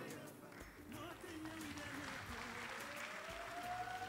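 Audience applause at the FEG 2018 closing award ceremony as prizes are handed out, sustained clapping from a crowd with voices talking over it.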